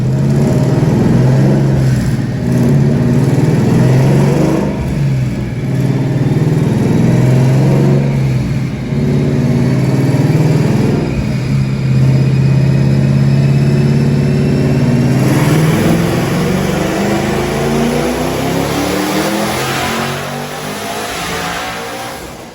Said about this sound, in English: we are gonna go ahead and open up the cutouts and basically just open up the